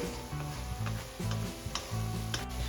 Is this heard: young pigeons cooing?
no